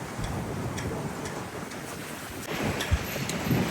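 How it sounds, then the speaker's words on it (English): Strong wind buffets the microphone at a truck stop in Ontario, California during a fire, a rough, rumbling gusty roar that swells toward the end, with faint ticking clicks scattered throughout. "Boy, I ain't never felt the wind like this."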